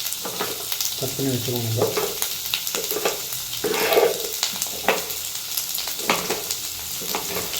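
Onion and tomato sauté in a pan for watermelon chutney, a close sizzle with scraping stirs and spoon clinks, under a woman's speech.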